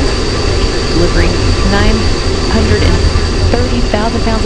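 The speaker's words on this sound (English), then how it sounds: "Hearing good first stage performance for the Soyuz" Soyuz MS-10 first-stage engines, with four boosters and a single core engine, roar steadily during launch as a loud, dense, unbroken rumble, heard continuously from onboard with faint tonal whines mixed in.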